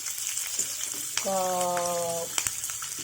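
Tempering spices sizzle steadily in hot oil while a curry of broad beans, capsicum and coconut is being made, with a tonal hum running underneath and a single spoken word.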